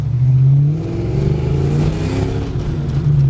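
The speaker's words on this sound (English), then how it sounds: "all you gotta do is listen to that raw, pure horsepower" A Saleen Mustang engine revs up and settles, a loud close rumble that rises and falls in pitch, with a rattling noise mixed in.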